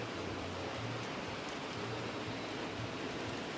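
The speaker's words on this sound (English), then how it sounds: "And there's heavy rain, Sam." Heavy rain falling outdoors, a dense continuous hiss that holds steady and fairly loud for the whole stretch with no talk over it.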